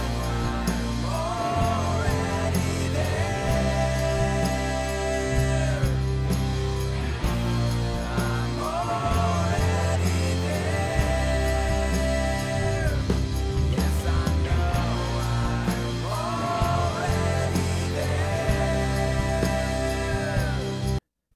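A rock mix of bass, guitars and kick drum plays back summed to mono, with a steady, full and dense sound, bending guitar notes over a low, pulsing foundation, and no talking for about twenty seconds.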